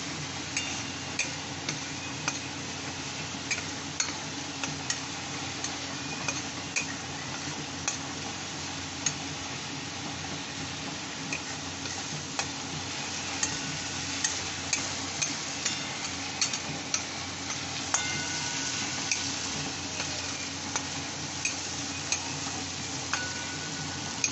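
Ingredients for pineapple ilish, a hilsa fish dish, stirred in a pan, with a soft steady sizzle and regular light scraping ticks of the spatula continuing throughout, fairly quiet and without talk.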